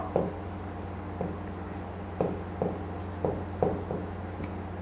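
Marker or chalk writing on a classroom board, a few short scratchy strokes spaced about a second apart over a steady low room hum.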